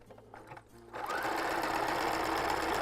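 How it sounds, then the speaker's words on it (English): A sewing machine stitches Lycra low-rise briefs with elastic, beginning with soft handling noises for about a second before a steady, close, continuous motor whir and needle hum runs without a break. "sew it all the way around just like this"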